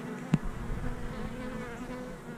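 Honeybees buzz steadily at the entrance of a backyard beehive, a continuous close drone with a brief louder pass as one bee flies near.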